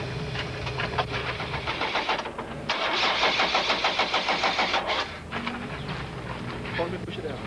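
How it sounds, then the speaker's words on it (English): Rally Conquest engine cranking repeatedly and spluttering without catching, 190 kW motor at a 1991 Tour de Total rally stage, loud and near, with a rhythmic starter churn that pauses and resumes, voices faintly underneath. "the motor splutters and no amount of cranking will persuade the Conquest to start."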